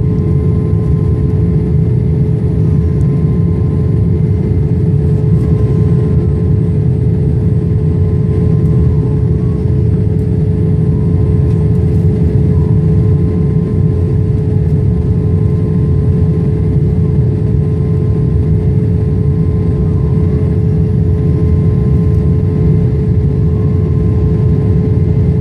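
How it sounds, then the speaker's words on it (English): Cabin rumble of an airplane landing at Nairobi's Jomo Kenyatta Airport, a loud, constant low engine and airflow drone with a steady hum that runs unbroken throughout. "are landing to Nairobi Airport"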